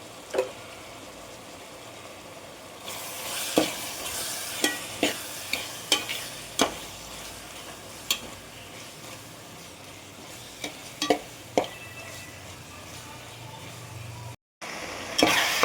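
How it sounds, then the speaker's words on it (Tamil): Steady sizzling of onions and tomatoes frying in a pan for prawn masala gravy, broken by a string of sharp scrapes and taps as a spoon stirs them. "வெங்காயம் தக்காளி நல்லா வதங்கிடுச்சு பாருங்கள்."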